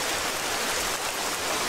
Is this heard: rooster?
no